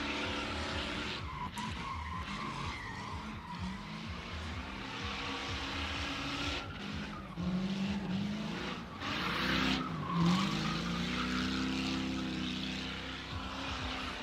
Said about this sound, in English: And the car sounds pretty nice as well.